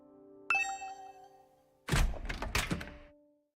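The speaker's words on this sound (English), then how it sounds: "Ding dong. Was that my doorbell?" A doorbell in the video game The Hundred Line gives a single clear, ringing chime. A few seconds later comes a cluster of dull knocking thuds.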